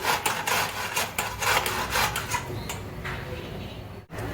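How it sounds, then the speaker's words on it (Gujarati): Sweet potato is grated by hand in quick, repeated rasping strokes, fairly close and moderately loud, the scraping rhythm slowing and fading toward the end. "આ રીતે આપણે છીણી લઈશું"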